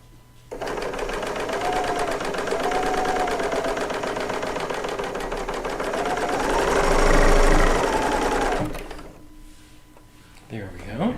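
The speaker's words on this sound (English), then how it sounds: "If I sew this, make this one long strip, I just have two more seams" Serger sewing machine hums steadily for about eight seconds while stitching a long quilt strip seam, swelling slightly in speed before stopping, with someone talking over the motor.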